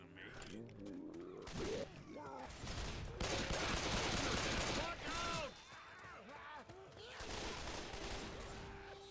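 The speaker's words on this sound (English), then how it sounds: "Heavy machine gun." Heavy machine gun fire in a PC video game, bursts of rapid gunshots rolling through much of the stretch amid other game effects, with a voice speaking over parts of it.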